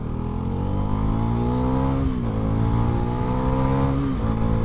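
Bajaj Pulsar NS400 motorcycle accelerating hard, its engine note rising in steady loud harmonic sweeps with brief dips at gear changes, close and continuous with no talk.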